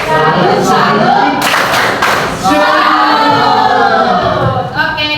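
A classroom of students does a rhythmic 'tepuk salut' clapping chant, with loud group clapping mixed with shouted voices in a steady beat across the whole stretch.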